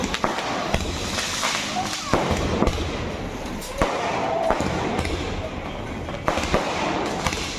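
Firecrackers burst in a rapid crackling string at an Ayyappa rally celebration, sharp pops layered over a dense hiss, with people talking underneath.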